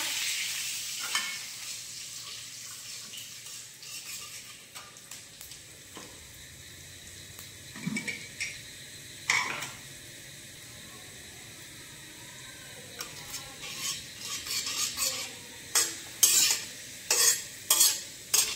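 Bay leaf and spices fry in a pan of hot oil with a steady soft sizzle, while a utensil stirs and scrapes in repeated short clatters that grow more frequent toward the end.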